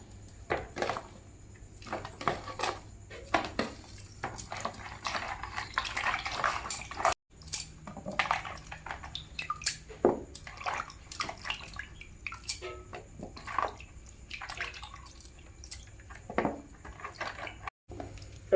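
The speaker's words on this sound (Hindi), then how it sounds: "एबे सारू को पूरा भल से धोई दवा।" Taro root being washed by hand in water in a home kitchen: irregular splashing, dripping and light clatter of a pot or bowl, close and fairly quiet, with no talking.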